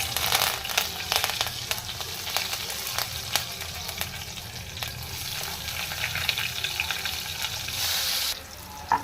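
Chopped onion, curry leaves and dried red chillies frying in hot oil for a mirchi gravy curry, a continuous close sizzle with scattered sharp crackles and occasional scraping of a spoon in the pan.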